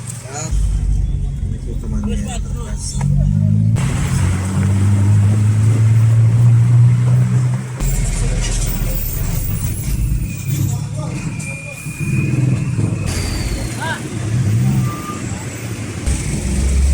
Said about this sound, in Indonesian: Setelah sampai di depan kapal, mobil pada ngantri akan masuk di kapal.